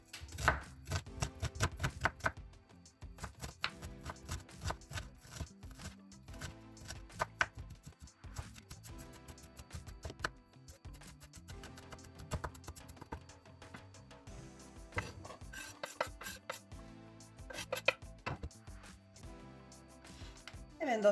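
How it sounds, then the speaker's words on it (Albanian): A knife dices two carrots into small cubes on a cutting board, producing quick rhythmic chopping taps in bursts with short pauses, close and crisp with no talking. "Do përdorim 2 karota, do t'i grim në kubik të vegjël."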